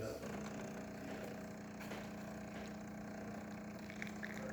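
A Jura espresso machine's pump hums steadily and loudly as a shot of espresso pours from the spouts, with a constant low drone and watery rush throughout.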